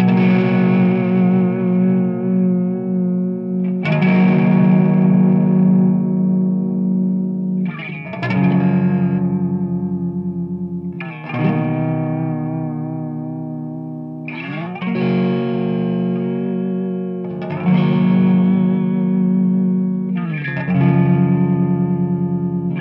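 Jackson DK2 FR7 seven-string electric guitar played through effects with distortion, chorus and reverb, ringing chords struck about every three and a half seconds and left to sustain and decay, loud and up close.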